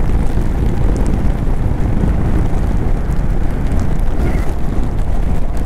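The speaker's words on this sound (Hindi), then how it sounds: "बारिश अभी बहुत तेज़ भी नहीं हो रही है बट हो रही है अच्छी खासी।" Steady monsoon rain heard during a ride on a Honda Highness motorcycle near Lonavala, a dense continuous wash of rain and wind rumble that stays loud and unbroken.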